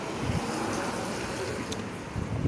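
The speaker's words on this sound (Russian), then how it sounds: "О, какой ветер сильный." Gusty wind buffets the microphone with low rumbling bursts, blending with a broad rushing wash, loud and unsteady throughout.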